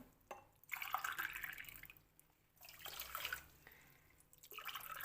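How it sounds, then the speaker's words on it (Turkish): Water poured from a glass into a pot holding sugar for syrup for a Turkish poppy-seed revani, splashing in several bursts with brief pauses between them, close and fairly soft. "İçerisine 3 su bardağı kadar da su koyacağım."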